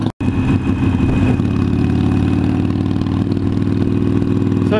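A 2015 Harley-Davidson Iron 883 motorcycle engine idles as it warms up, a loud, steady, close rumble that runs on evenly after a brief cut at the start.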